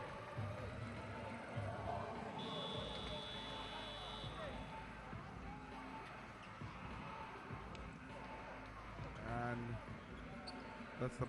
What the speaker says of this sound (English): That's the buzzer to end the timeout.